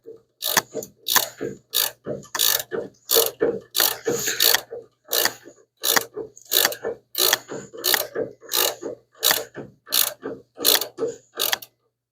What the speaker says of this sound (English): Alright, we're tightening up the motor mount.